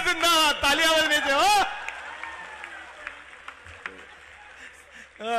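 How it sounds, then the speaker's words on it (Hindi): Audience clapping at a poetry and humour recital in Bhopal follows a voice, a brief burst of scattered applause that quickly thins to faint claps and murmurs. "तालियां बजा दीजिए"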